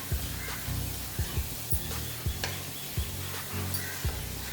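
Food sautés with pepper powder in a pan, a steady close sizzle and hiss under regular soft stirring thumps and scrapes that repeat about once a second.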